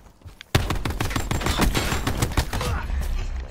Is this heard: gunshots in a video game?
yes